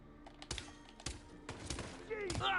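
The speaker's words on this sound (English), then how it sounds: "We got gunshots." Several sharp, loud gunshot bursts in Hitman: World of Assassination, spaced irregularly, with a rising electronic whine at the end.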